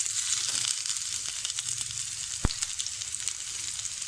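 Capsicum frying in a pan for aloo manchurian, a steady close hiss and sizzle with a sharp single knock partway through.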